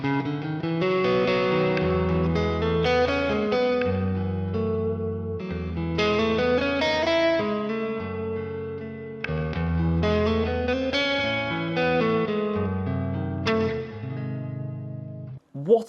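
Vintage Telecaster-style electric guitar on the neck pickup plays warm, slightly driven chords and melodic runs in repeating phrases, ringing with light effects, no voices.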